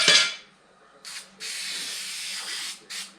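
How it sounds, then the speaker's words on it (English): Spray adhesive hisses from an aerosol can onto a 1955 Canadian Pontiac door panel in several bursts, one short and sharp, then a longer steady blast and a brief final spurt, close and fairly loud. "We'll spray it up and then let it sit for a couple minutes"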